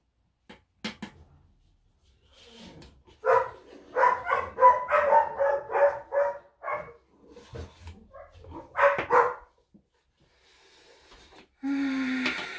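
Dogs barking in a rapid, close run of loud barks after a few quieter yips, then a second short burst, followed by a hissing noise at the end.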